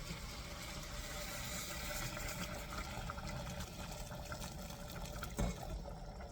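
Hot liquid poured steadily into a risotto pan on the stove for chicken livers with peas, a continuous close wash of liquid hiss with no talk over it.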